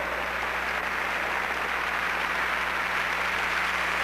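A church congregation applauds during a revival service, a dense, continuous wash of clapping at steady loudness with no break.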